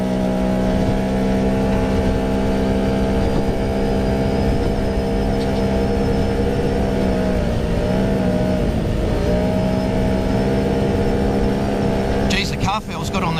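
Off-road race car pounding over bumps during the Finke Desert Race in the desert, its engine a loud, continuous, close droning roar whose pitch dips and recovers midway, with a sharp rattling burst near the end.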